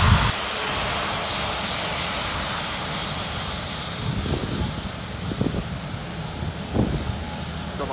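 A loud, roaring airplane engine fills the air close by at the end of a Manchester Airport runway, broad and steady, with gusty wind buffeting underneath.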